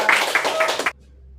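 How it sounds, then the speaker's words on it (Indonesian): A group claps hands together in a quick burst of applause that stops abruptly after about a second. "tepuk tangan kita semua"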